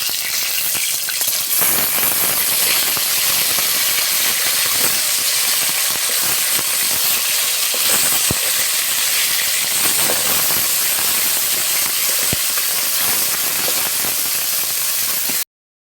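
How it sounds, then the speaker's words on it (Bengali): Bhola fish fry in hot oil with a continuous loud sizzle and hiss, with a few sharp pops and crackles as the pieces cook, and no talk. "মাছগুলো এক পিঠ ভাজা হয়ে গেছে, এবারে উল্টে অপর পিঠটাও ভেজে নেব।"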